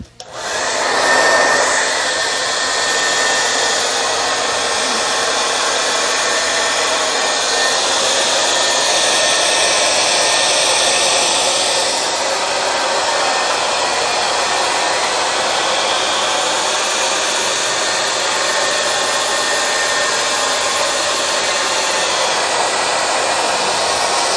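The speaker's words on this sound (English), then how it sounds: "just to speed up the process, little hairdryer here" A hair dryer blows steadily and loudly for the whole stretch, drying spray paint on a Commodore Amiga 1200 keyboard, a continuous airy whoosh with a faint motor whine and no voices.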